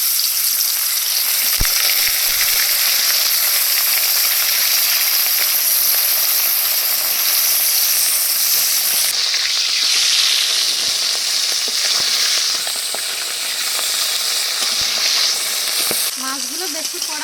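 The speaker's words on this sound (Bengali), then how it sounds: "তেল গরম হয়ে গেছে মাছগুলো ভেজে নেবো" Bony river fish frying in hot oil, a loud, dense sizzle that runs steadily throughout, with occasional clicks and scrapes of stirring and turning in the pan.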